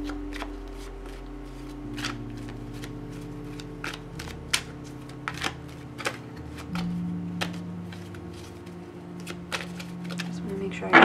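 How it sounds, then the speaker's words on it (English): Tarot cards being shuffled by hand, a run of crisp riffling snaps and flicks spread through the clip over a low steady background tone, with a voice talking at times. "Let me just shuffle a little bit better just to make sure I'm getting the right message."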